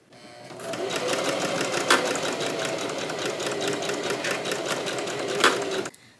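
A sewing machine stitches fabric in one steady, close, loud mechanical run that holds for about six seconds before stopping abruptly.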